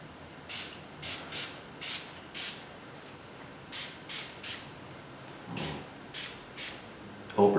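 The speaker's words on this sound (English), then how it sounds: "the manufacturer says to spray that too" Short spray bursts of liquid onto a stripe kit with its backing peeled off, during a stripe install on a third-generation Camaro IROC-Z. About a dozen quick hissing pumps come in uneven clusters, close and moderately loud, with no talking.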